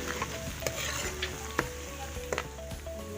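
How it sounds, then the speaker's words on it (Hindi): Chopped onions frying in hot oil in a home kitchen pan, a continuous bubbly sizzle with occasional clicks and scrapes of a spoon stirring against the pan, fairly quiet and close. "ऑयल हमारा गर्म हो गया, मैंने प्याज डाल दिया। ये प्याज हमारे फ्राई हो गए हैं।"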